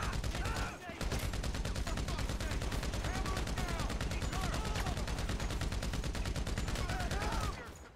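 Rapid bursts of gunfire in the video game GTA 5, a loud sustained barrage of repeated shots running nearly the whole time with little pause, with a few faint voice-like sounds mixed in.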